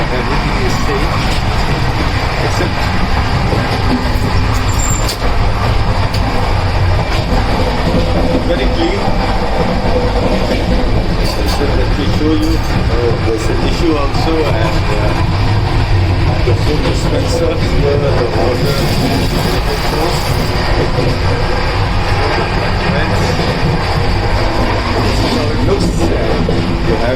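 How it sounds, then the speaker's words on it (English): An Indian Railways train between Mumbai and Chennai runs at speed, a loud, continuous rumble with rhythmic wheel clatter filling the whole stretch. "train is running at a good speed"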